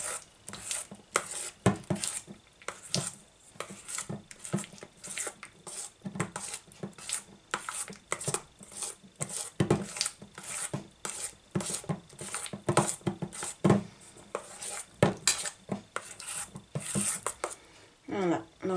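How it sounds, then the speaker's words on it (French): Gluten-free chestnut cream cake batter is stirred in a bowl with a continuous rhythmic scraping and clinking of utensil against bowl, while someone talks at times over the stirring. "Il faut mélanger."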